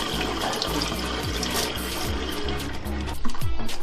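The washable filter from a Tineco iFloor One S3 cordless hard floor cleaner is swirled in water, making a continuous close splashing and gurgling that swells louder near the end.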